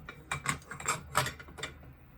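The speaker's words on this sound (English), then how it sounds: "Then you want to loosen this buffer tube nut. I have a wrench here." Wrench turning the buffer tube nut on a CYMA Platinum M4 QBS airsoft rifle, giving five or six close metallic ratcheting clicks in an uneven rhythm with no talking.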